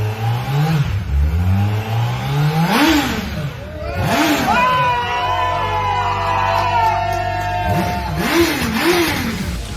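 A Suzuki Hayabusa motorcycle with an aftermarket exhaust revs hard in repeated rising blips, loud and close, with crowd noise and voices around it.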